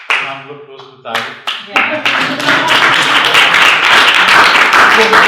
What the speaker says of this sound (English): Can you also round of applause for that?